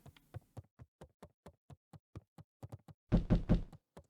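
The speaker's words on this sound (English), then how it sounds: "Okay, that was a knock on the door." Knocking on a door in the video game Beacon Pines: a long run of evenly spaced, crisp taps, then a louder, denser cluster of raps near the end. No voices are heard.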